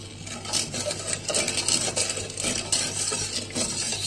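Sugar syrup for gulab jamun being stirred in a pan, with continuous close scraping and clinking of a utensil against the pot over a low hum, no voices.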